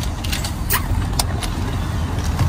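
A car being driven on a shopping trip in the US, with a steady engine and road hum and a few light rattles and clicks inside the cabin, with no one speaking.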